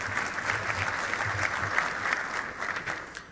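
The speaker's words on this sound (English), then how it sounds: "that'll get a round of applause" Congressional audience breaks into steady applause, a dense patter of many hands at moderate distance, swelling and fading slightly over a few seconds.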